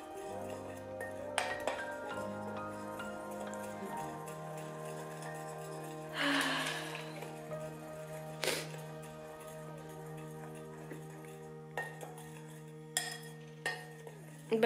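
A beauty box product being mixed in a container makes faint clinks and scraping taps of a utensil, with a louder stirring rustle in the middle and scattered light knocks, over a steady background hum.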